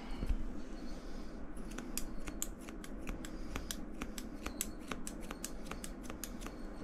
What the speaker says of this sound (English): Can we get scissors and just go this way?